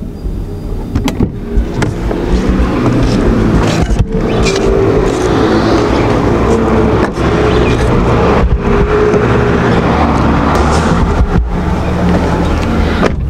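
A Chrysler 300C's engine idles close by, a steady low rumble with faint ticks and clicks of controls inside the car, no one talking.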